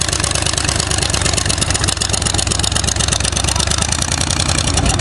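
An engine runs steadily at a low, even idle, its dense throbbing rumble close and loud the whole time without much change in pitch, and no clear voices above it.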